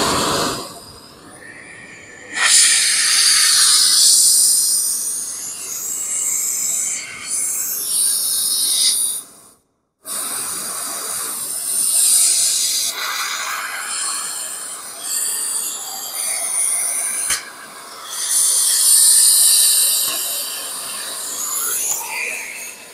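A bracket being cut off the frame of a Mack Cruise Liner semi truck: a loud, harsh, rasping metal screech that runs in long bursts, with one short break in the middle, close by and with no talk.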